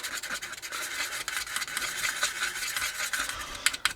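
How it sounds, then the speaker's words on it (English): Paint being stirred in a pot, pale grey mixed into green, making a steady scraping, swishing rub throughout, close and moderately loud with no talking. "Give it a good stir"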